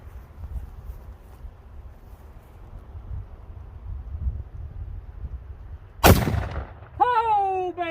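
A Mosin Nagant rifle fired at a pumpkin outdoors: one loud, sharp crack after a stretch of quiet wind and rustling, followed by a voice speaking.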